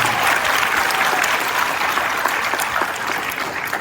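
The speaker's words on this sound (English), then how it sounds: "Can you please give him again a round of applause?" A graduation ceremony audience claps in a dense, sustained round of applause, loud and even for several seconds, with no speech over it.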